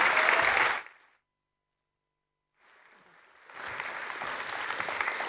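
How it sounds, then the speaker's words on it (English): Applause from an audience at a startup accelerator showcase fades out into near-silence, then swells again into steady, moderately loud clapping. "Big round of applause."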